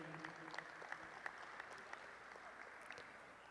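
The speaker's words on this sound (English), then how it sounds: "If you would, please give them a hand." Faint, distant applause from a livestock show crowd honoring a Jersey heifer class at NAILE 2023, a steady thin patter of clapping with a few sharper claps.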